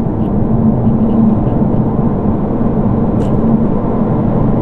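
An electric Peugeot E-308 GT accelerating hard at full throttle from around 100 km/h. It produces a loud, steady roar of road and drivetrain noise that holds even throughout, with no voices.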